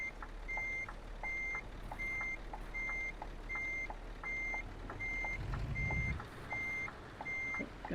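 Reversing alarm of a truck in Euro Truck Simulator 2, a steady series of evenly spaced beeps over a low engine rumble, with a short burst of louder low-end noise near the end.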